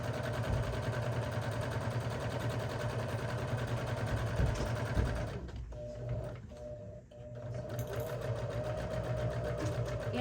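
A sewing machine stitches and back tacks a tote bag with a close, steady whir, pausing briefly midway before running again.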